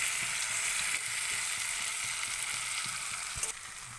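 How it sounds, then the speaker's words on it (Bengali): Crushed ginger and garlic stir-frying in a pan, a loud, continuous close sizzle with soft scraping and stirring knocks throughout and a sharper clatter near the end, no voices. "দিয়ে এটাকে ভালো করে মিক্স করছি।"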